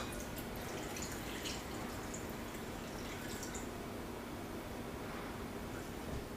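Brine poured over vegetables in a jar for lacto-fermentation, a continuous faint watery pouring and trickling, steady and close with no voices.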